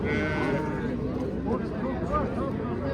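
Sheep and lambs bleat repeatedly at the busy Osmat sheep bazaar in Bakhmal, Jizzakh, while people talk over a dense crowd murmur.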